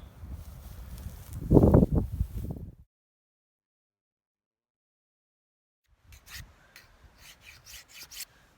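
Knife edge honed during butchering of a Himalayan tahr in New Zealand's Southern Alps: a close rasping rub of a few seconds, then silence, then a run of lighter scraping strokes.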